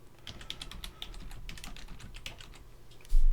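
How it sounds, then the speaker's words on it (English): Rapid clicking of keys on a computer keyboard, steady and close, with a louder thump near the end and no talk. "actually we can type it into AI"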